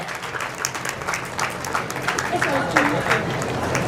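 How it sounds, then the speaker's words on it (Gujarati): An audience at a village Patel community gathering claps for a student award, a sustained patter of many hands under an announcer's voice, fairly close and steady throughout. "તાળીઓનો ગડગડાટ રૂકવો ના જોઈએ"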